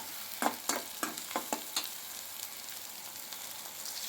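Dried neymeen fish and onions fry in a pan, with a few sharp stirring scrapes near the start giving way to a steady, soft sizzle.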